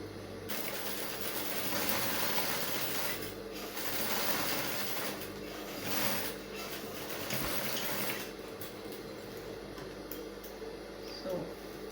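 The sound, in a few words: sewing machine top stitching trousers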